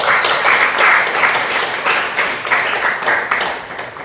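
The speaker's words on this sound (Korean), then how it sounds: "박수 올려드리겠습니다" A church congregation applauding together during a Sunday service, dense sustained clapping filling the room for several seconds and tapering slightly at the end, with no talk over it.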